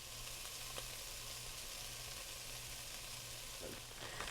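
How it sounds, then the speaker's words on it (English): Ham and onions sizzle steadily in a hot pan at the start of cooking for Hoppin' John, a constant close frying hiss with a few faint stirring scrapes and no talk. "I'm going to go ahead and add in the ham and the onions and start cooking them together"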